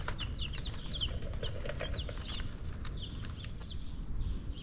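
Newly hatched baby chicks on a small farm, a steady stream of high, quick peeps and chirps overlapping near and far, with a soft low rumble of background noise underneath and no talking.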